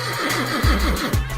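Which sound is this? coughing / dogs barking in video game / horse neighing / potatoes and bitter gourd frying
horse neighing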